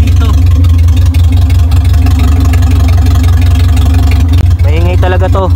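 A camouflage owner-type jeep idles loudly through its muffler, a steady, heavy low rumble that stays constant throughout, with a voice starting briefly near the end.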